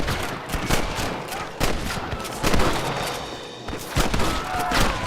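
Rapid bursts of gunfire in the Red Dead Redemption video game: sharp shots in clusters with short gaps between them, loud and close, set over a busy game soundscape.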